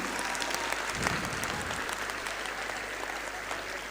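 An audience at a school play's acknowledgements ceremony applauds in a steady, dense wash of clapping that carries on throughout, with a louder burst early on.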